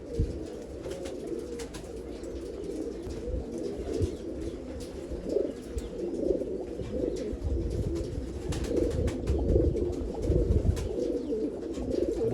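Pigeons coo continuously in low, rolling murmurs, several birds overlapping close by with occasional wing flutters and chirps, no talking.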